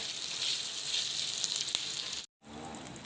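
Steady, crackling sizzle of diced pork fat frying in a hot wok, close and continuous, with a brief silent gap near the end.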